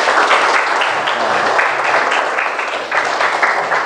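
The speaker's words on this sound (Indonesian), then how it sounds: "Give applause to your friends." Classroom applause: a steady wash of many hands clapping together, loud and close, lasting the whole stretch without letup.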